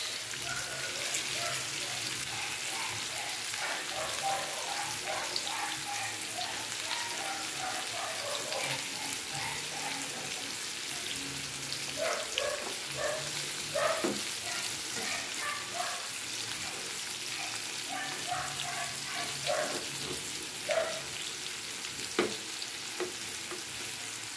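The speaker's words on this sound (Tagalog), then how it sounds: "Nagisa na natin ang ating ricado. Luya, sunod ang carrots." Ginger and carrots sautéing in a pan for fish escabeche, a steady close sizzle throughout with frequent clicks and scrapes of a stirring utensil.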